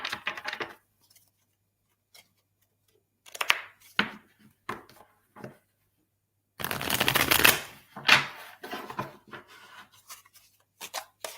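Tarot cards shuffled close by, in scattered bursts of riffling and flicking separated by quiet gaps, with one longer, louder riffle near the middle.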